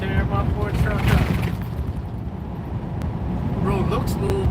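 A pickup truck rolls along a bumpy road that looks smooth, a steady low road and engine rumble with cabin jostling throughout, while someone talks over it.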